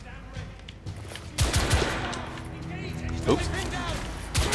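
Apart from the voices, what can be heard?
gunfire in video game The Order 1886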